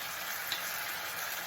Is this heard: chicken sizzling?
yes